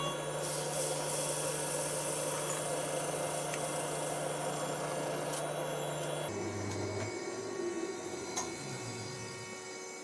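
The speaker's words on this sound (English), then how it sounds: "I'm going to finish off smoothing all the inserts out" Wooden inserts being smoothed on a woodturning lathe, a steady close mechanical hum and whir with broadband scraping noise that shifts pitch partway through, continuous with no talking.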